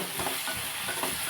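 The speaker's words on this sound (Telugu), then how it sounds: "ఒకసారి మళ్ళీ చూసి కలుపుకుందామండి." Chopped onions frying in a pan while being stirred for a mushroom curry, a close, steady sizzle with soft scraping strokes, no talk.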